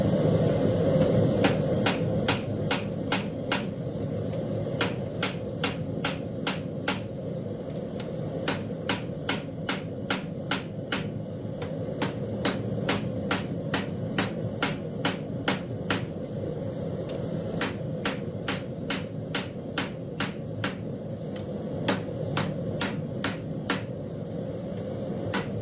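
Hot steel from a propane forge is hammered into a taper, sharp ringing hammer blows falling in a steady, quick rhythm over the constant roar of the forge burner, with no talk.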